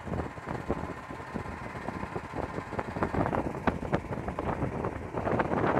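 A boat motor runs on the Pacaás Novos river in the Amazon near Guajará-Mirim, giving a steady droning hum under rushing wind buffeting the microphone, with sharper clattering bursts growing louder toward the end.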